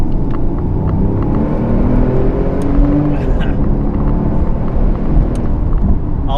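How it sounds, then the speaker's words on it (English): Porsche 911 Turbo with a Cobb Stage 1/2 tune and Tubi-style exhaust accelerating on a road in Mexico, a loud steady low engine rumble with turbo whoosh heard from inside the car, continuous throughout. "I love the sound of the turbos."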